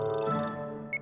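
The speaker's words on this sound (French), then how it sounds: "C'est mon alarme de rappel." Reminder alarm ringtone from a Polly Pocket cartoon: a short electronic tone ending in two brief high beeps.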